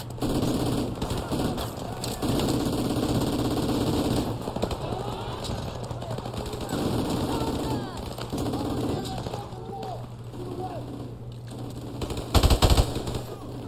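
Gunfire in the shooter game Call of Duty Modern Warfare Remastered, with sustained automatic bursts rattling over a steady game background for several seconds and a louder cluster of shots near the end, while a voice talks now and then.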